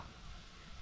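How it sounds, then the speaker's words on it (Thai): Water boils in a pot with a steady, close hissing and bubbling rush, constant and unbroken. "น้ำเดือดแล้ว"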